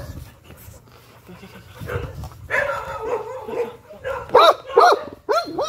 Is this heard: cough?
no